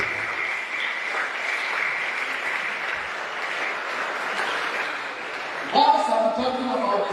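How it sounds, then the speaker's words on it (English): An audience applauds the CISOs at an opening ceremony, with steady dense clapping sustained throughout, a voice briefly rising over it near the end. "Let's clap for every CISO here."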